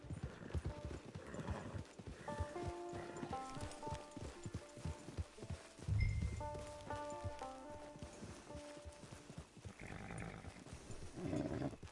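Horse hooves clip-clopping at a steady walking rhythm in the Red Dead Redemption 2 video game, with occasional snorts and a brief whinny, mixed with tonal game music throughout.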